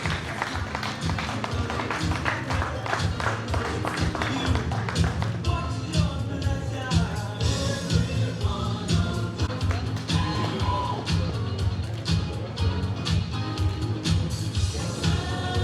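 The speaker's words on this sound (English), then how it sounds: "Please, a round of applause for him." A seated audience at a ceremony gives a speaker a sustained round of applause. The clapping is dense and continuous, fairly close and loud, and holds steady for about fifteen seconds with no break.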